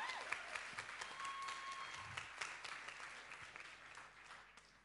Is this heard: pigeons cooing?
no